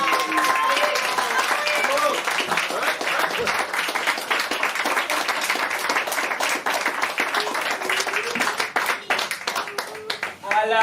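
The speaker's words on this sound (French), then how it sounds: "Est-ce que Yves, on l'a assez applaudi" Audience at a slam poetry night in Auribeau-sur-Siagne clapping, a dense burst of applause that thins out over the seconds, with voices calling out among the claps.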